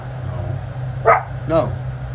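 A dog barks twice outdoors, two short sharp yaps about half a second apart, over a steady low rumble of background noise.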